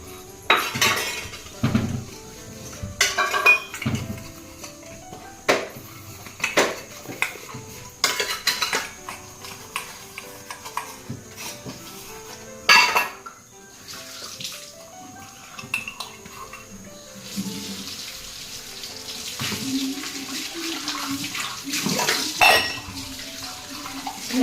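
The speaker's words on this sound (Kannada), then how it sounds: "ಈಗ ಇರೋ ಬರೋದು ಸ್ವಲ್ಪ ಪಾತ್ರೆಗಳಿರೋದನ್ನು ತೊಳೆದು ಹಾಕ್ಬಿಡ್ಬೇಕು." Dishes and vessels are washed at a kitchen tap, with repeated clinks and clatters of metal pots and utensils over running water, close and fairly steady, with no talk.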